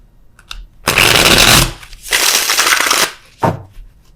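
Tarot clarifier cards being shuffled in two long riffling bursts, close and fairly loud, followed by a brief third snap of cards.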